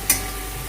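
Masala with salt being stirred and fried in a pan, a brief scrape of the spoon over a steady close sizzle.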